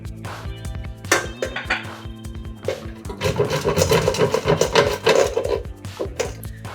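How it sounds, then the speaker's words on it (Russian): Chilled butter grated by hand on a box grater for hand-kneaded pie dough, heard as repeated rough rasping strokes close up, with light clinks of the grater between passes and no talk. "Я буду замешивать вручную, поэтому я его натру на терке."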